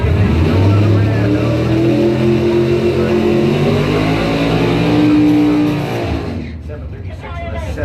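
Drag race cars, among them a Ford Pinto, roar loudly off the line at a drag strip, with sustained engine noise and rising revs before fading away, under crowd and announcer chatter.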